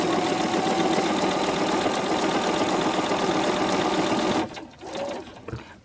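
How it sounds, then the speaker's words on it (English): Sewing machine stitching four-patch quilt blocks in a straight seam, a steady loud mechanical whir for over four seconds that stops abruptly, leaving faint handling sounds. "Just stitching right straight down and making sure that I'm keeping my pieces lined up."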